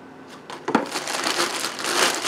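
A plastic bag holding an indestructible RC truck body, a Brute Bash Armor body, is crinkled and rustled as it is opened, a close, continuous crackling that grows busier after a sharp rustle early on.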